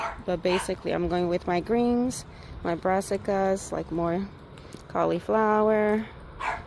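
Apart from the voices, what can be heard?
dog barking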